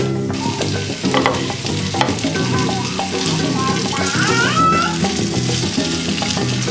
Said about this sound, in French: On laisse que l'huile et l'ail chauffent un peu. On les fait un peu sauter pour qu'ils lâchent leur saveur.